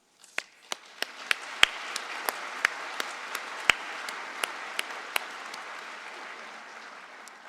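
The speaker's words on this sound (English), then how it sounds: "Let's keep the applause going" Sparse applause from a crowd at a college graduation ceremony, with individual sharp claps standing out at irregular intervals before it fades toward the end.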